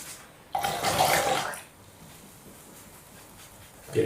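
A paintbrush is swished and rinsed in a water cup during a watercolor desert sunset painting, giving a brief splashy burst of sloshing water, followed by quieter dabbing and a soft knock near the end; no one speaks.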